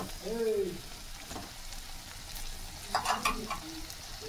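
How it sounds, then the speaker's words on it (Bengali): Chopped tomato cooks down with spices in a pan, a soft, low sizzle with a few scraping stirs near the end and a brief voice at the start. "টমেটো কুচিটা গলে যাওয়া পর্যন্ত আমি খুব ভালোভাবে কষিয়ে নেব"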